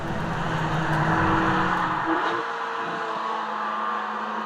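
A Ferrari Amalfi's turbocharged engine pulls hard, a strong rising growl up close that shifts pitch partway through and then settles into a steady drone.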